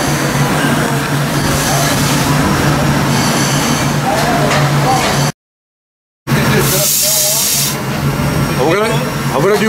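A running steam engine at an outdoor show, a steady loud hiss and rumble of escaping steam with a brief break, and faint voices mixed in.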